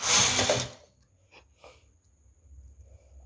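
A knitting machine carriage makes one loud mechanical whirring pass that stops abruptly, followed by a few faint clicks of the needles in near silence.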